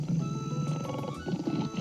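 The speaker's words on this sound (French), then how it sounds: "Le tigre grogne à leur passage." A tiger at a zoo gives a low, rumbling growl, loud and sustained for a couple of seconds, in an animated children's show.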